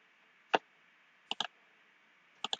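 A computer mouse clicks crisply and close: one single click, then a quick cluster of clicks, then a final pair, with silence between them.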